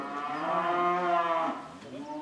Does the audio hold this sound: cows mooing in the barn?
yes